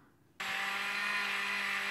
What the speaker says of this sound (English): So put them in a blender